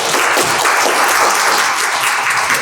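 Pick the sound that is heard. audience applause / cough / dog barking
audience applause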